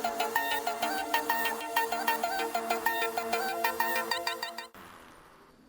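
A mobile phone ringtone plays a bright, repeating synthesized melody with a bouncy rhythm, loud and close, then stops abruptly, leaving a quiet hiss.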